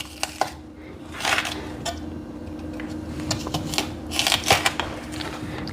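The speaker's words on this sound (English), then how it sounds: "like a thicker julienne on that celery" Celery cut into thick julienne on a cutting board gives quick bursts of knife taps and scrapes, fairly close, with pauses between the runs of cuts.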